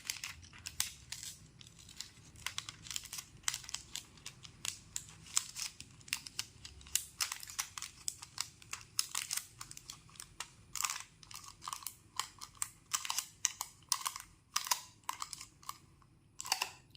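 A plastic mehandi cone being rolled by hand, producing close, quiet crinkling and crackling bursts in irregular clusters against near silence.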